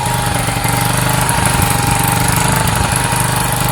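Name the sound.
Sinnis SC125 motorcycle engine revs hanging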